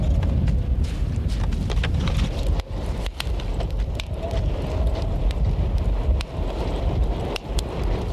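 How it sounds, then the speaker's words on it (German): Icy wind blowing steadily over frozen Lake Baikal in winter, a loud continuous rushing roar buffeting the microphone with gusty low rumble and occasional thumps, no voices. "aber es weht ein eisiger Wind."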